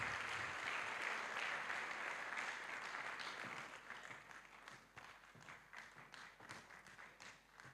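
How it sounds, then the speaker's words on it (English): A conference audience at a developer summit gives the organizing team a sustained round of applause, dense at first and gradually thinning into scattered claps as it fades. "Please give them a round of applause"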